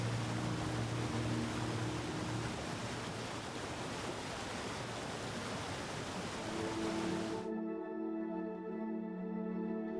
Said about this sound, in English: you'll hear the sound of cascading water long before the falls come into view